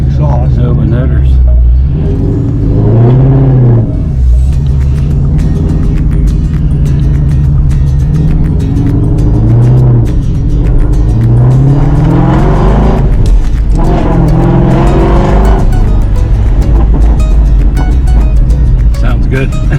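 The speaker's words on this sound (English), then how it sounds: "Open exhaust. Open headers." Classic car engine with open exhaust headers revving loudly up close, rising and falling in several bursts over a steady heavy rumble, with people talking over it.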